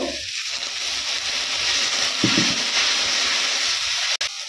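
Spice paste of cumin and coriander powder sizzles steadily in a pan as water goes in, a brief louder burst of frying over a continuous close hiss.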